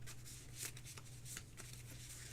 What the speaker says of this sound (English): Once we give this a quick shuffle.